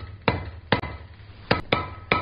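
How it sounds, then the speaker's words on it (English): Hammer blows on hot steel against an anvil while forging a ball-end coat and hat hook, five sharp ringing strikes at uneven intervals, close and clear with a quiet gap between each. "get my hammer strikes a little bit better here"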